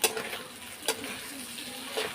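Fish oil frying with thinly sliced potatoes in a pan, a continuous sizzle broken by a few sharp scraping stirs of a spatula.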